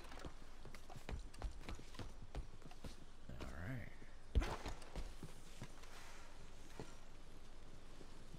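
A horse in Red Dead Redemption 2 walks with soft, steady clip-clop hoofbeats, faint and even, with a brief snort and creak of tack partway through.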